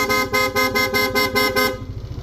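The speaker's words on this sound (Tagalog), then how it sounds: "Pag sinwitch, magpapalit siya sa PIA horn." Stock PIA horn on a Yamaha Aerox V1 scooter honks in a rapid string of about eight short, loud, close blasts with a steady rhythm, then cuts off into quiet.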